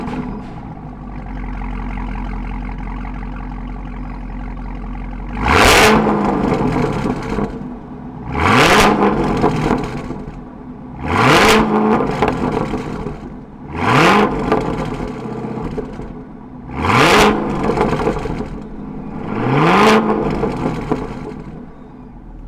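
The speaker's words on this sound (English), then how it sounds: "let's fire this up and hear that Corsa exhaust and what that LT4 screams like." A Cadillac CTS-V with an LT4 V8 and Corsa exhaust starts up and is revved hard about six times in even succession, each sharp loud blip rising and falling back to a steady rumbling idle, close by with no talk.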